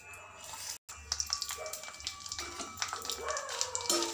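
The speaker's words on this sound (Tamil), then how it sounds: "வரமிளகாவை நல்லா எண்ணெயில் பொரிக்கணும்" Dried red chillies crackle and sizzle in hot oil, with a steady hiss broken by quick pops, fairly quiet and close.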